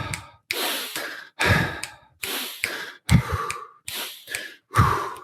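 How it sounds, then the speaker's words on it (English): A person demonstrates rhythmic running breathing, with sharp audible inhales and long breathy exhales in a steady pattern of about seven close, loud breaths separated by brief pauses. "if you go 2 steps in, 2 steps out, focus on the exhale"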